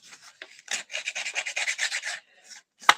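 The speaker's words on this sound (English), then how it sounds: "I have the glass emery boards" A glass emery board rasps against a fingernail in about a dozen quick, close back-and-forth strokes, with brief pauses at the start and end.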